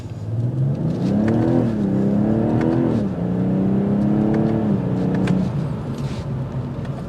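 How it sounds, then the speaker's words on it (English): A 2024 BMW 840i Gran Coupe engine revs up and down while driving, its exhaust note rising in pitch through gears, loud and close with a steady whir underneath. "You still get the exhaust note that filters in."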